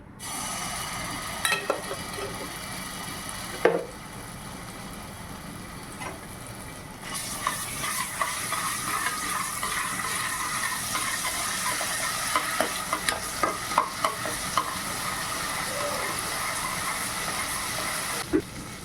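Steady sizzling of ginger garlic paste frying in oil in a pressure cooker, with occasional stirring clinks and scrapes over a continuous crackle.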